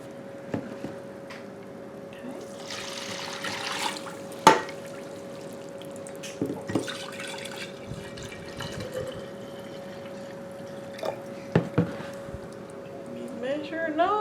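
White vinegar is poured into a measuring cup while making chow chow relish, a soft liquid splash followed by a few clinks and bumps nearby, over a steady electrical hum.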